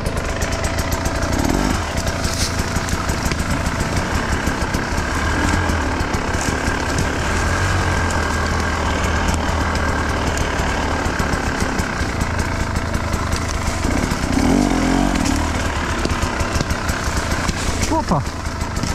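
KTM EXC 300 TBI two-stroke enduro motorcycle ridden through woods in hard enduro terrain, a continuous close buzzing engine rising and falling with throttle, a rider speaking over it.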